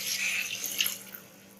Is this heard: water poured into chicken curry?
yes